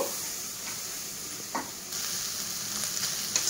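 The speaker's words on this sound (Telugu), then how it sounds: "దీన్ని అయితే ఒకసారి బాగా కలుపుకొని కొంతసేపు వేపుకుందామండి" Bobbara beans and coconut fry sizzling steadily in a pan with a few scraping stirs of a spatula, close and continuous with no talking.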